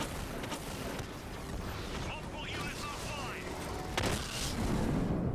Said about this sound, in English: Look at that old missile barrage.